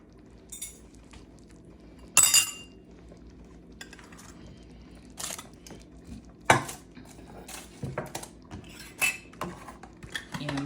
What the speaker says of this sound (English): I'm gonna grab some spoons for me and hubby